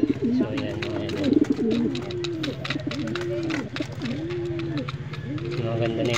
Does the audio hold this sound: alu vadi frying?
no